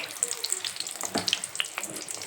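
Samosas fry in hot oil, giving a close, busy crackle and bubbling hiss with scattered sharp pops across a short stretch, and no voices.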